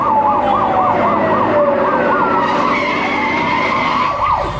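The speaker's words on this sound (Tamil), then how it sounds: "நம்ம வண்டிக்கு முன்னால போற போலீஸ் ஜீப்ல இருந்து வர சத்தம் தான் சார்" A police jeep's siren, driving just ahead of a convoy at a campaign event in Avadi, wails loudly and repeatedly in fast rising-falling cycles over steady road and engine noise, close and dominant.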